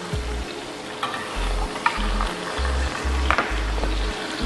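Beef steaks searing in a hot pan for medium doneness give a continuous close sizzle and crackle, with occasional clinks and scrapes of handling and no talking.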